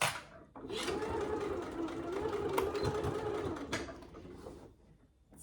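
A sewing machine runs in one continuous burst of steady, fairly loud whirring stitches as it back stitches along a bag gusset, starting after a brief pause and easing off near the end.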